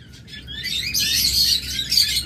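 A pair of albino red-eye cockatiels or lovebirds gives rapid, shrill chirps and chatter close by, growing louder and busier after the first second and continuing without pause.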